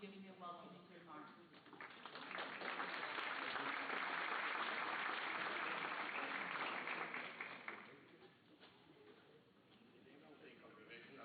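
A crowd applauds at a Holocaust Day of Remembrance gathering: steady, dense clapping swells for several seconds, then thins out, with voices around it.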